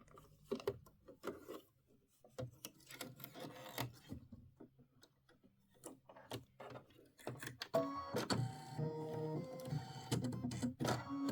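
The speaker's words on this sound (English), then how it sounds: "And now it's doing this step right here. It's sewing it down." A computerized embroidery machine stitches down navy denim fabric for a snow-themed decorative hot pad, giving off rapid mechanical clattering and ratcheting bursts that grow into a steady, louder whirring run.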